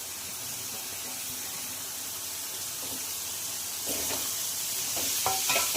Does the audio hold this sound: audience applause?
no